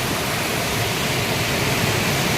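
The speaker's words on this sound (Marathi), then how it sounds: "खूप जोरात पाणी आलेलं आहे आणि वरती धबधबा आहे" Loud, steady roar of rushing monsoon water on the route to Kalsubai, with a waterfall just upstream, filling the whole stretch as an unbroken close-up wash of noise.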